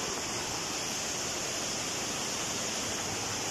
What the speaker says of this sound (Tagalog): Ganda ng falls dito.